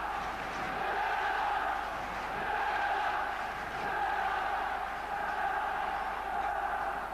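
Aston Villa home supporters roar steadily after a goal in a 1990 UEFA Cup tie against Baník Ostrava, a broad sustained stadium din that swells and holds without breaks for several seconds.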